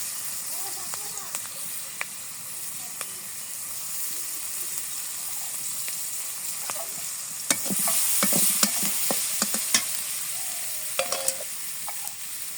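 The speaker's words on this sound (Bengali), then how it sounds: "পেঁয়াজ কাঁচা মরিচ দিয়ে দিচ্ছি" Sliced onion and green chillies fry in oil and are stirred, a soft continuous sizzle under scattered scraping and clinking of a utensil against the pan, busier toward the middle, while a voice talks quietly at times.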